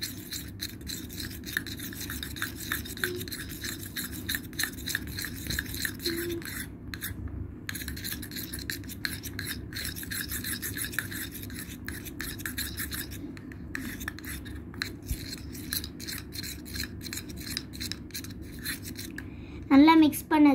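Homemade slime is stirred and mixed with paint, making a steady, close rubbing and scraping sound that runs on without pause, with a brief louder rustle at the very end.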